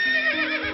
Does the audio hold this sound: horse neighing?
yes